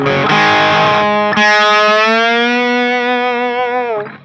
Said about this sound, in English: there's this long delayed bend